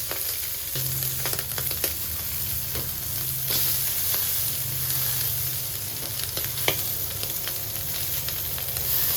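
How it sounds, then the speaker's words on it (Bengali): Lightly fried fish sizzles in a pan as green chilies go in, a continuous close crackle and hiss with occasional soft stirring knocks. "মাছটা হালকা ভাজা হয়ে গেছে, এখন এর মধ্যে দিয়ে দিব কিছু কাঁচামরিচ।"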